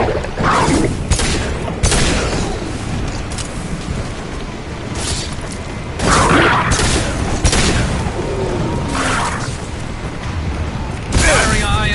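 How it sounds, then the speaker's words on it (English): Heavy high-impact weapon shots in Mass Effect 2 combat, several loud booming blasts spaced irregularly across a noisy battle, with a voice speaking briefly between them. "Firing a high impact shot."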